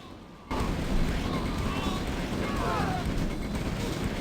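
Artillery shelling in the real-time strategy game OpenRA during a tournament match: a continuous dense rumble of booms and blasts starts abruptly after half a second and keeps on, with faint talk underneath.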